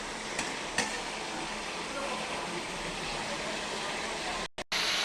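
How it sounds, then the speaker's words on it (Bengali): Chicken meat fries in a pan over a low gas flame, giving a steady, even sizzling hiss with a couple of faint clicks early on and a brief dropout near the end. "মাংসটা ভাজা হচ্ছে"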